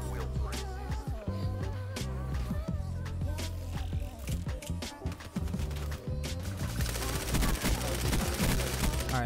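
A PPSh submachine gun fires in a video game in long, rapid automatic bursts, loud and close, the rattling stream briefly broken by pauses before resuming, with a voice speaking over it at moments.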